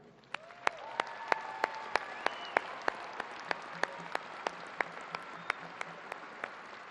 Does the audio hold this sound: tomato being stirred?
no